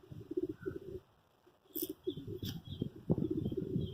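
Madrasi pigeons coo in Miraj, Maharashtra, with a run of soft, low, pulsing calls close by, a short pause and then more cooing, plus a few faint higher chirps.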